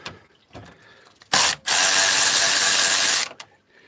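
A power tool whizzes a security nut off the bonnet catch of a Lexus RX400h, with short bursts followed by a sustained loud, high-pitched spin of about two seconds and a few clicks around it.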